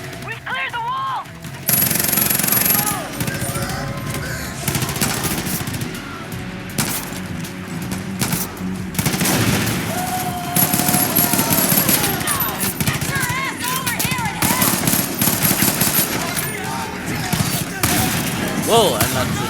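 Rapid automatic gunfire and bursts of shots from the video game Far Cry New Dawn during a siege, loud and nearly continuous, with players talking over the shooting.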